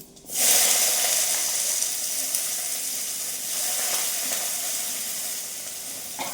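Dal with onion sizzles steadily in a hot pan, a close, bright crackling hiss that swells briefly midway and carries on unbroken, with no voices.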